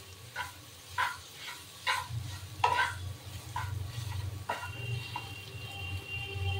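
Boiled potatoes being stirred in a frying pan with spices, a spoon scraping in repeated strokes over a steady sizzle of hot oil, close and moderately loud with no talking.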